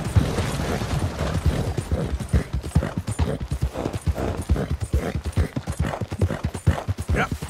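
A horse gallops along in Red Dead Redemption 2, its hooves drumming a steady, close, rhythmic clip-clop throughout, with gear rattling faintly underneath.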